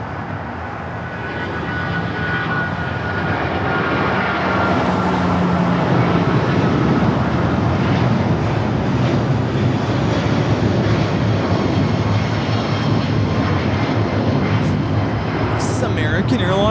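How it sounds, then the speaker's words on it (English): An American Airlines Boeing 777-200ER taking off at Los Angeles LAX, a loud sustained jet engine roar building over several seconds and holding steady, close by, with a voice talking over it. "American Airlines 1972 taking off to Dallas-Fort Worth on the 777-200ER."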